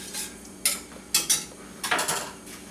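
A spatula scrapes and clatters against a pan as food is added back in and stirred, several distinct metallic scrapes and knocks at close range, no talk.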